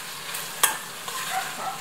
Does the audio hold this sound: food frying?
yes